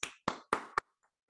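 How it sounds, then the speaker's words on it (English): Four quick hand claps in a loose rhythm, fairly faint and close, each a sharp isolated smack followed by silence. "I'm going to clap for you, Warren, because that first half"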